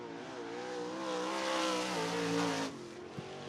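A 360 sprint car screams around Cottage Grove Speedway on a qualifying lap, its engine a loud sustained high-revving wail that rises, then cuts off abruptly near the end.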